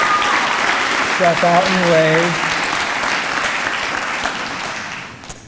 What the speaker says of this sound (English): If you could stand and accept our applause